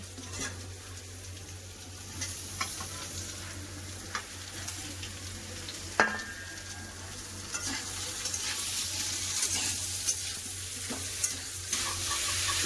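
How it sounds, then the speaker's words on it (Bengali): Ridge gourd stir-fried with half-fried potatoes and turmeric in a pan: a low continuous sizzle broken by repeated spatula scrapes and clinks, with a steady hum beneath. "আলু ভাজা ভাজা হাফ ভাজা হয়ে গেছে এবার ঝিঙ্গাটা দিয়ে দেবো"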